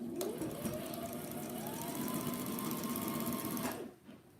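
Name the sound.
sewing machine stitching a fabric scarf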